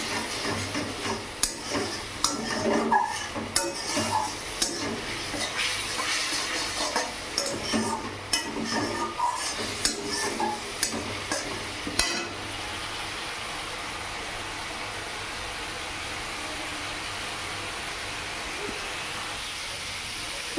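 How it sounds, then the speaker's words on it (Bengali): Garlic frying in oil in a pan while being stirred, with a steady close sizzle and scraping strokes that stop about halfway, leaving a softer continuous hiss. "এবার এটাকে ভালো করে নাড়িয়ে একটু কষিয়ে নেব।"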